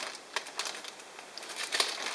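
Soft crinkling of a plastic bag handled during the unboxing of a model airplane kit, with quiet irregular rustles and crackles scattered throughout, close and faint, no voices.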